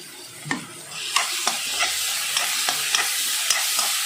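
Crushed shallots, garlic, ginger and green chili being sautéed in a pan, with a steady sizzle and repeated scraping strokes of a stirring spoon, no talking.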